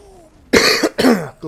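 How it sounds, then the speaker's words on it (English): A man coughs and splutters in two harsh, close bursts separated by a brief pause, loud and alone with no speech. "excuse my coughing and spluttering and dying."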